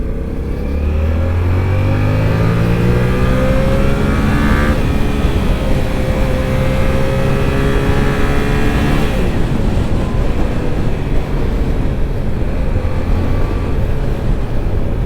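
A Yamaha R7 motorcycle in A2-restricted trim accelerates hard, its engine note climbing in pitch through the gears before settling into a loud, sustained roar close to the rider.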